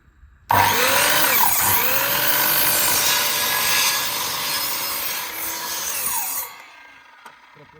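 A Vitals Master DZ 2521CY miter saw spins up sharply and cuts through wood in one long, loud, steady whine before winding down and stopping.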